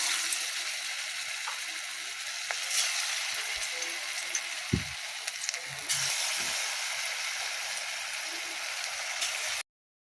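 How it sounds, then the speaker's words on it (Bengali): Fritters of taro leaf (kochu shak) sizzle steadily in hot oil in a kadai, a continuous rain-like hiss with occasional small pops and a few clicks. "বড়াগুলো কড়াইতে দিয়েছি"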